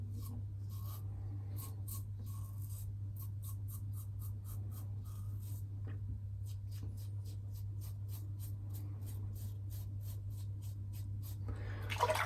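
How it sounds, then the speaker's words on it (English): A Gillette Super Thin razor blade scrapes across lathered skin in a warm water shave, a long series of short, crisp strokes in rhythmic bursts, close and fairly quiet over a constant low hum. "Now this is a warm water shave today."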